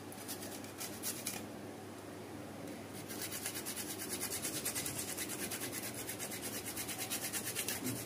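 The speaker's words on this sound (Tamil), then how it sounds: "இப்போ இதில் வந்து நம்ம இஞ்சி சீவிக்க போகிறோம்." Quiet, rapid rhythmic scraping and rasping of ginger being scraped, continuing steadily without talk.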